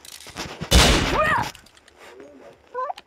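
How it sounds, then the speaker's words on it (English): A video game gun fires a short, loud burst of rapid shots lasting under a second, followed by quieter game sounds and faint tones. "He was actually shooting."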